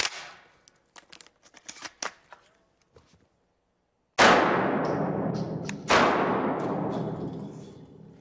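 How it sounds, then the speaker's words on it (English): A Benelli M2 12-gauge semi-automatic shotgun fires two loud, close blasts a couple of seconds apart outdoors on a range, each with a long ringing decay, after a stretch of quiet clicks and handling noises. "I shoot a Benelli M2 12-gauge semi-automatic"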